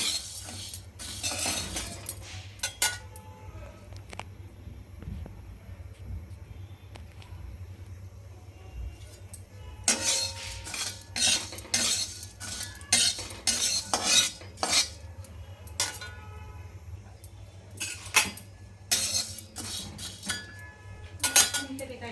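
Coriander seeds dry-roasting in a hot pan for chakli flour, with bursts of rattling and scraping as a metal spoon stirs them, separated by quieter pauses and brief low background voices.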